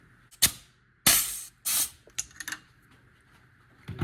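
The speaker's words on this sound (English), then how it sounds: "Okay, we're leaking on this inboard portion again. Gasket failed." Fluid spurting in short hissing bursts from a failed gasket on a 1967 Honda CB77 motorcycle engine, three or four sharp sprays with quieter spits between them, close and alone.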